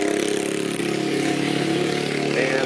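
A small pit bike engine revs steadily and loudly up close, a continuous buzzing motor note holding nearly constant with slight swells and no voices over it.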